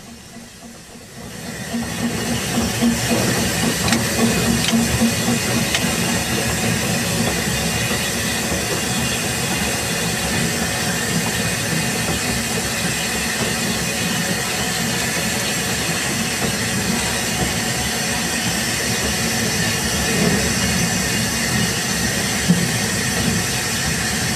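A steady, continuous hiss and rumble of a Talyllyn Railway steam locomotive running round its train close by, building up at the start and holding at an even level throughout.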